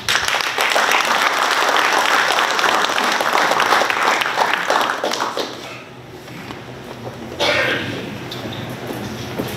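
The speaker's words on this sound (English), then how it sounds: "Let us please give him again a big round of applause." A large audience applauds at length after a formal address during the FSM President's state visit to Pohnpei. The clapping is steady and dense, dips briefly partway through, then swells again.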